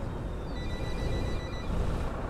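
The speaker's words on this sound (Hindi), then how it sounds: "हमारा फोन बज रहा है" Phone ringing inside a coach in the bus-driving game Fernbus Coach Simulator, a faint electronic trill sitting over the loud, constant rumble of the bus engine and road noise.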